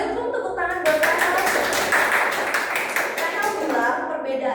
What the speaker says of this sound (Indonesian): Boleh dong tepuk tangan buat Rahel.